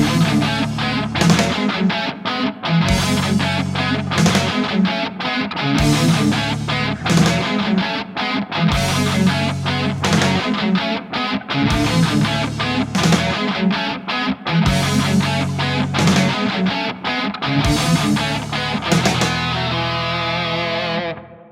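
A song's intro on two harmonized distorted electric guitars, playing fast driving riffs over pounding bass and drums in a loud, dense full-band mix with rhythmic stops and accents throughout.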